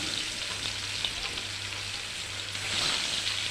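Fish fries in hot oil in a home kitchen, a steady close sizzle with a low hum beneath and a brief surge of crackling near the end, no talk.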